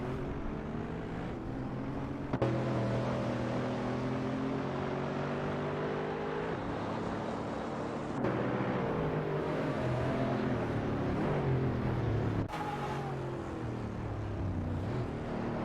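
AI-driven racing cars on the Zolder circuit in a racing video game, engines droning loud and steady with rising and falling gear-shift pitch sweeps, broken by a few abrupt cuts between camera views, no voices.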